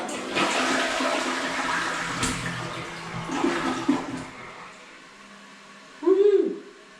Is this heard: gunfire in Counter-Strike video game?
no